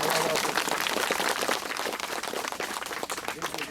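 Crowd applause for the governor at an intergenerational picnic event, a steady fairly quiet patter of many hands clapping throughout the short stretch.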